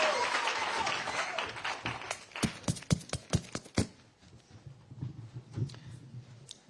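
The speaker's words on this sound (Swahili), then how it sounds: "Pigeni makofi ya kutosha. Makofi, makofi." Applause for the Governor of Machakos at a public gathering in Nairobi: a crowd clapping steadily, then a series of loud, separate claps that thin out into scattered hand claps and quieter murmuring.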